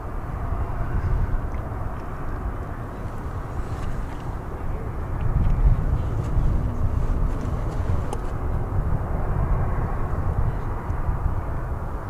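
Jet airliners at DFW International Airport make a steady, broad roar with a low rumble that holds for the whole stretch, heard from a plane-spotting vantage point without any talk.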